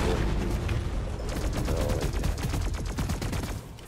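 Video game gunfire rattles in rapid automatic bursts, a dense, loud, continuous string of shots that stays close and thins out near the end.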